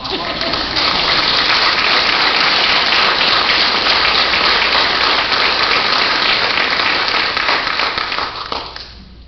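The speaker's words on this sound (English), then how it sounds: "let's give them a hand of applause" Sustained audience applause at a school board meeting as parents stand to be recognized, dense and steady for about eight seconds before fading out at the end.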